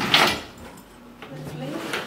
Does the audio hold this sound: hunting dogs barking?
no